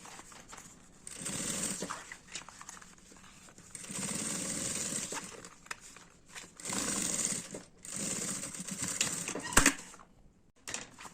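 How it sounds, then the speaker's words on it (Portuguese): A sewing machine stitches a bag's lining to the main fabric on a baby toiletry pouch, running in several bursts of a few seconds each, separated by short pauses. "você pode passar uma costurinha aqui, pra segurar o forro no material principal também"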